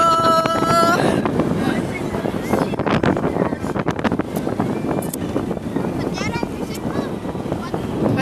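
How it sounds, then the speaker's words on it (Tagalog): Gusty outdoor wind buffets the microphone in loud, uneven low rumbles while a person keeps talking over it in Filipino at the Guimaras Eiffel Tower. "pasensya na po kayo dahil masyadong mahangin dito sa labas"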